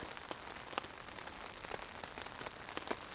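Light, steady rain pattering on a surface at a foggy, wet campsite, with scattered individual drops ticking out clearly over a soft, continuous hiss.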